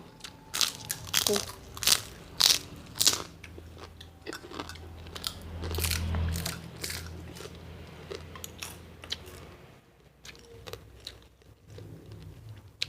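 Loud, close crunching and chewing of crispy Thai-style roasted pork cracklings, with sharp bursts of bites and crackle repeating over the first seconds, then softer continuous chewing with a low rumble underneath.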